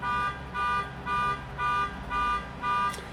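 A car alarm blares outside in repeating bursts, about six evenly spaced pulses of a steady electronic tone, moderately loud and carrying from a distance with no voices over it.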